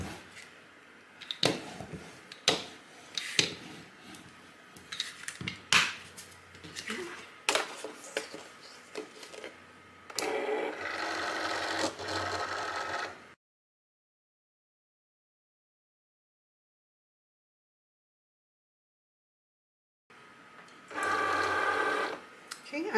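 Cricut cutting machine working through glitter cardstock, with bursts of close mechanical whirring and clicking, a pause of silence, then the motor whirs again briefly; a voice talks over parts of it.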